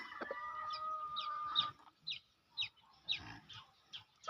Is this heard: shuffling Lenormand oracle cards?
no